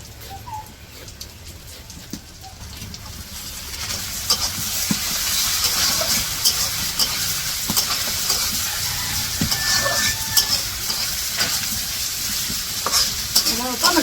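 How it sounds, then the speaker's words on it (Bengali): Onions and tomatoes fry in a kadai for a village-style quail curry, giving a continuous sizzle with stirring scrapes that swells after the first few seconds, while a bird coos faintly in the background. "পেঁয়াজ তো কড়াই দিছে পেঁয়াজ ভাজা হইতেছে"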